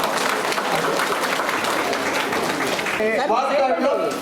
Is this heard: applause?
yes